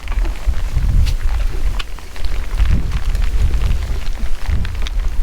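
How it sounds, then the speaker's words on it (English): Steady rain patters all around in stormy Everglades weather, with low rumbling gusts of wind and scattered drops striking a nearby surface. "Okay, stop, rain."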